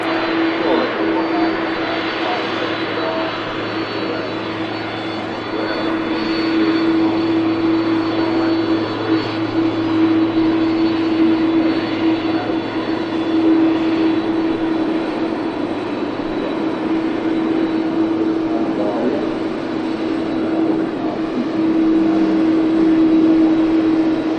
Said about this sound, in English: Here she is, the Airbus A330 300 series. Listen to this.